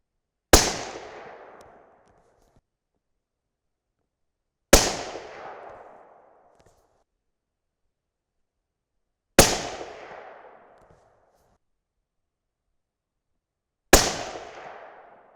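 Four sharp 6.5 Creedmoor rifle shots fired with 130-grain Sierra GameChanger loads, evenly spaced about every four and a half seconds, each a loud crack with a decaying echo and silence between.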